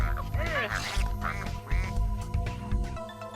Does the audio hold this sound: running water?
no